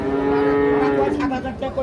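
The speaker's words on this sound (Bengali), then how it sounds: "দুটোই শাহিওয়াল ষাঁড় বাচ্চা।" A Sahiwal bull calf of about seven to eight months moos once, long and close, at a cattle market, with faint crowd noise behind it.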